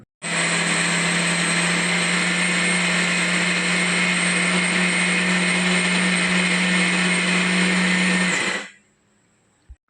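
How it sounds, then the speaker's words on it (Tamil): A mixer grinder whirs at full speed, grinding country sugar with sesame for a traditional dish, a steady loud motor drone with a high whine that runs about eight seconds, then cuts off abruptly into quiet. "இதை நம்ம இப்போ அரைச்சிக்கலாம்."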